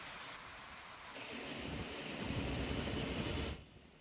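Heavy rain pours down during a thunderstorm in Bihar, a dense steady hiss with a deep rumble of thunder swelling beneath it before cutting off abruptly near the end.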